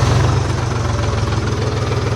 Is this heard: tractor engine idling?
yes